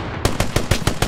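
Rapid automatic gunfire in the World War II shooter Hell Let Loose, about six sharp shots in an even, quick rhythm, loud and close with no talk over it.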